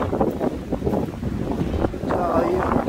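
Strong wind buffets the microphone at sea beside a fishing boat, a steady rough roar with gusts and splashing waves underneath, loud and close.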